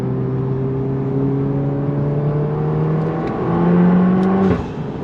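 A Mk7 Golf R four-cylinder engine and exhaust drone steadily at low pitch, then rev up briefly near the end, heard from inside the cabin.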